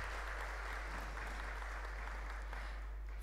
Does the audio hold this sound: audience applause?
yes